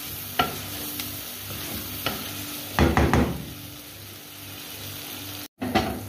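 Tinda (apple gourd) masala with onions fries in a pan, with steady sizzling broken by several bursts of scraping as a spoon stirs it, close and fairly loud.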